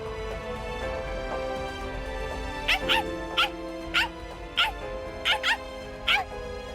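A dog in the Bleach Rebirth of Souls video game gives a series of six short, high yips in quick pairs over a steady musical background, fairly close and clear.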